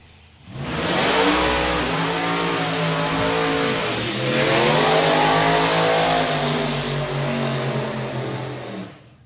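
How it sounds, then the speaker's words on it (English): A Willys coupe drag car makes a solo pass at a drag strip, its engine roaring loud and close as it accelerates hard, with rising revs and a brief shift break partway through before fading slightly at the end. "Billy Jones in the Grumpy Grizz Willis Coupe on a solo run"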